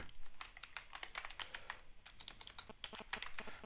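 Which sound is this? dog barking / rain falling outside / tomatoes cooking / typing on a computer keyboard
typing on a computer keyboard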